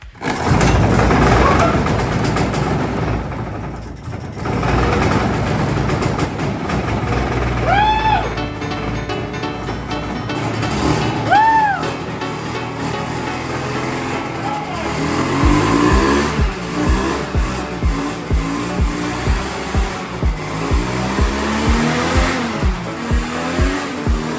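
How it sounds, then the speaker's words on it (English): A hovercraft engine unused for over 20 years cranks, sputters and catches, then roars steadily and loudly, with repeated revs rising and falling toward the end. "hearing an engine roar to life that's been sitting for so long"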